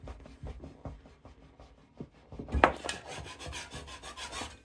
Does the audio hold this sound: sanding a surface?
yes